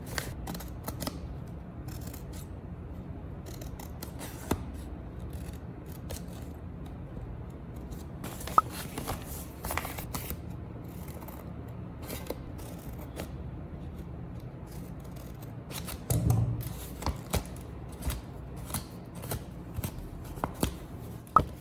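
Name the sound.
scissors cutting triangle holes in a paper bag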